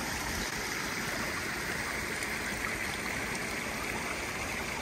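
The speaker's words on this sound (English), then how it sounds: "We've passed a number of these streams along the way." A stream in a mountain forest of the Medicine Bow Mountains, Colorado, rushes steadily and close by, a dense, continuous wash of flowing water with no voices.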